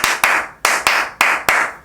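Six loud, close hand claps in an uneven rhythm, each a sharp attack with a short decaying tail, recorded as a test of a microphone limiter on peak sounds.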